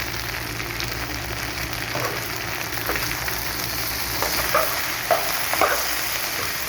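New potatoes and egg with green chili fry in a pan, a steady close sizzle with repeated stirring scrapes and a few sharper clinks near the end.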